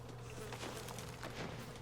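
Bees buzzing in the 2D roguelike shooter Kingdom Gun, a soft, wavering insect drone with faint flutters.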